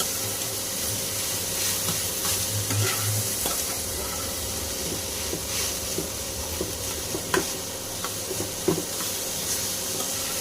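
Pumpkin slices sizzle steadily in a hot pan with no water added, a constant crackling hiss with occasional sharper pops and stirring scrapes, heard up close.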